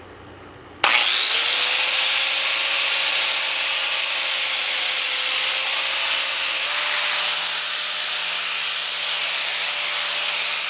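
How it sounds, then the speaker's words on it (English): An angle grinder with a sanding attachment spins up sharply and keeps up a steady high whine while sanding a wooden wheel hoe handle, loud and continuous, with a slight shift in pitch later. "For the sanding, I'm going to be using an angle grinder with a sanding attachment on it."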